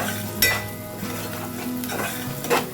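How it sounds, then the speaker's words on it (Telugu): Onions fry in a pan with a steady close sizzle, and stirring scrapes break in twice as brief louder bursts, with no talk. "ఉల్లిపాయలు అవుతున్నాయి."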